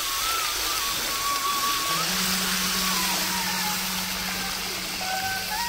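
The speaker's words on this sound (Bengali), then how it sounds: "আর আমি এখন দিয়ে দেবো জল।" Water poured into hot fried spice paste for a tilapia curry sets off a loud, steady rushing hiss and sizzle that stays dense throughout, with faint tonal hums beneath.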